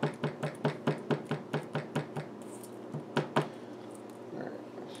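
A hammer taps lightly and quickly on match heads to knock off their coating, about a dozen times in a steady rhythm, pauses, then gives a few more taps, close up.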